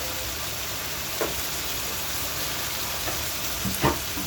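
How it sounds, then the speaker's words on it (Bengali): Ginger, garlic, onion, green chili and tomato sauté in mustard oil, giving a steady, even sizzle throughout with a couple of faint clinks from stirring. "আদা, রসুন, পেঁয়াজ, কাঁচামরিচ, টমেটো সবগুলো দিয়ে একসাথে কষিয়ে নিচ্ছি"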